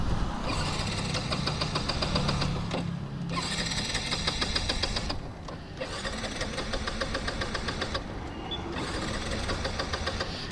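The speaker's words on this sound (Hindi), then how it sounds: "यहाँ पर आकर बाइक बिल्कुल भी ऑन नहीं हो रही" A Yamaha R15 V4 motorcycle starter cranks in four long bursts separated by brief pauses, whirring and chugging without the engine catching.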